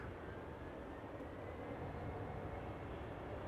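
A KLM Embraer 190 airliner taxis at Schiphol airport with a low, steady jet engine rumble, faint and distant, continuous throughout.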